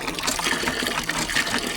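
Water gushes from a village hand pump in a steady, continuous rush, close and fairly loud with no talking.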